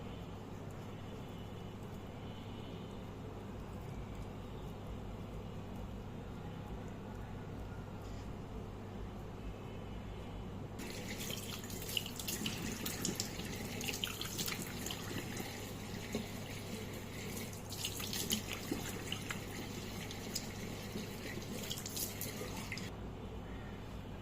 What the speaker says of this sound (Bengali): মুখটা ধুয়ে নিয়েছি